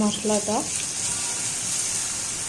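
Chopped onion and tomato sizzle in hot oil in a pan, with spice paste going in for a potol dorma, a steady frying hiss under a brief voice at the start.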